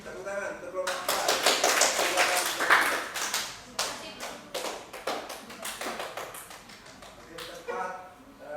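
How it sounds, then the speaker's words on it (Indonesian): A group in a workshop or classroom claps for a presenting team, rapid hand claps swelling, then thinning into scattered, uneven claps. "Tepuk tangan untuk kelompok 4."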